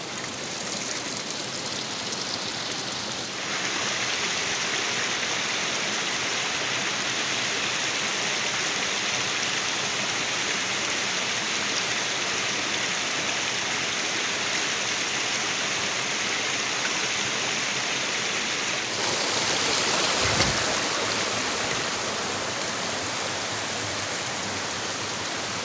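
Water flows out from beneath stones in the Kashmir hills, a continuous close rushing and trickling that fills the scene, swelling briefly louder near the end.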